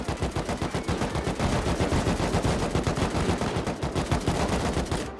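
Sustained automatic gunfire in the survival game Rust rattles out as rapid, evenly spaced shots. The burst is loud and continuous, with a brief pause just before the end.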